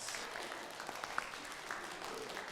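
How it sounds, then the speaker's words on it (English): A church congregation applauding during a Sunday worship service: a soft, continuous wash of many hands clapping at a distance, with a few sharper claps standing out. "Give me a square of applause."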